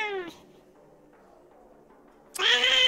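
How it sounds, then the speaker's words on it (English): A cat meows twice, a short cry at the start and a louder, drawn-out meow near the end, with near silence and faint background hum between them. "What the hell is that cat in the background?"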